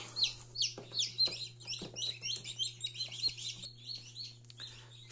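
Newly hatched Marans chicks peep from an incubator, many high, shrill chirps overlapping in a busy, continuous chorus over a faint steady hum.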